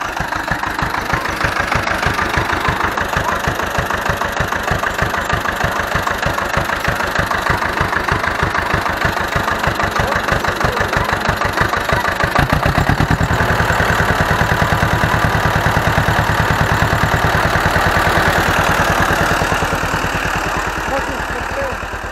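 A diesel tractor engine idles with a rapid, regular chugging pulse, loud and close; the rhythm shifts and smooths out partway through.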